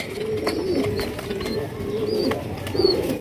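Domestic pigeons offered for sale, including racer and magpie breeds, coo repeatedly in soft, low, rolling calls close by, with faint chirps above and no voices.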